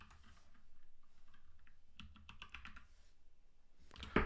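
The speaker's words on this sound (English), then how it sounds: "typing as we go" Quick bursts of clicky keystrokes on a computer keyboard, fairly close and moderately loud, come in uneven clusters separated by short pauses, ending in a sharper cluster of taps.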